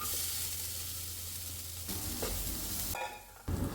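Cooked lentils are stirred into a sizzling pan for a spinach thoran, a continuous close frying hiss broken by a few scraping stirs near the end.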